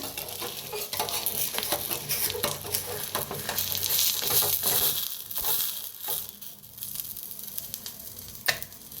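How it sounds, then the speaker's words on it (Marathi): Eggs frying in a pan give a continuous, close sizzle with dense crackles and pops, with occasional stirring scrapes mixed in. The sizzle eases slightly toward the end. "अंडी बी छान अशी फ्राय व्हायला लागले"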